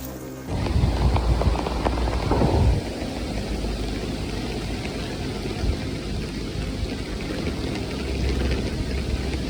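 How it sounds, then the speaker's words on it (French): Steady rain patters close by in a forest during a hike, with a deep rumble of thunder in the first few seconds before the downpour continues alone. "il pleut"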